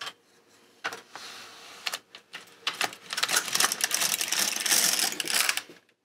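LK150 knitting machine carriage sliding across the needle bed for three rows of tuck stitch, a close, fairly quiet rattling clatter with short bursts and pauses, building into a steadier mechanical run toward the end.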